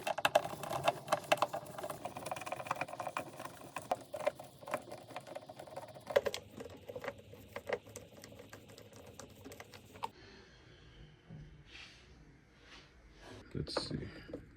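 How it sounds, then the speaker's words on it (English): Small screws being backed out of a speaker's plastic casing during a USB-C repair, a run of light clicky ticks and scraping close by, busiest early on and thinning out toward the end. "Let's get some of these 4 screws out and see what we're working with."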